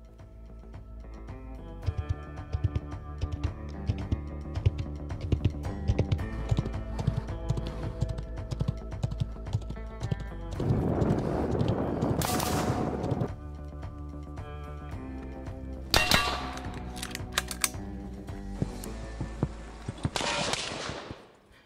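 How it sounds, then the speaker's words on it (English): A suppressed Smith & Wesson M&P 15 Sport II rifle fitted with a Miculek magnetic buffer fires a long string of sharp, rapid shots, loud and close, with short pauses between bursts. "I was just shooting the Miculek magnetic buffer in this rifle. I did have a suppressor."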